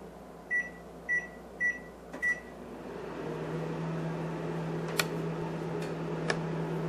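A microwave oven being set to defrost: four keypad beeps, a click, then the oven starts running with a steady low hum and faint ticks and clicks, close and quiet.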